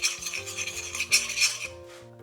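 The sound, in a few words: spoon stirring to dissolve a fish stock cube in a pot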